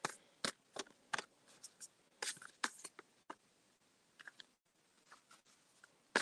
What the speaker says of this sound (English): Miss Oppo, I'm shuffling for you now.